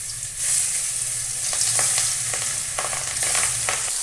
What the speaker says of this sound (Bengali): মাছটা ভেজে নেব।